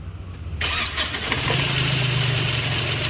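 A Hyundai Xcent CRDi diesel car with a starting problem cranks and catches, its engine settling into a loud, steady diesel idle heard close up with no talk.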